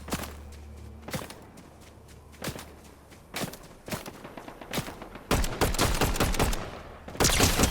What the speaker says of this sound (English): I hear somebody firing.